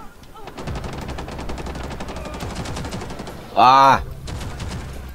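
Rapid automatic gunfire in the tactical shooter game Rainbow Six Siege, a dense stream of shots that continues throughout, with a player shouting briefly over it near the end.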